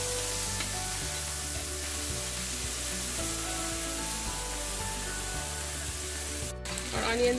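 A tomato and spice paste with chili powder cooks down in a pan with a constant low sizzle and a few soft stirring scrapes, and a brief clatter comes near the end.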